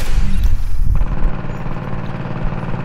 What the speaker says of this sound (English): I can sit there and let the turret do a lot of my killing